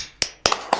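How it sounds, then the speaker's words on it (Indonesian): A classroom of students doing the 'tepuk semangat' spirit clap, three sharp, close claps in quick rhythm with no talking. "Kita tepuk semangat dulu ya"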